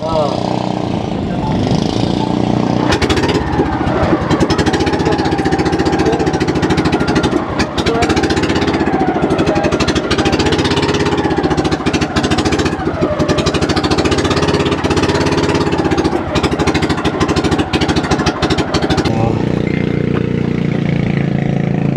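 A fishing boat's engine at sea runs with a loud, steady, rattling drone that never lets up, while people talk over it.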